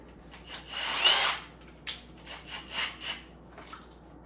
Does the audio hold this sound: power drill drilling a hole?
yes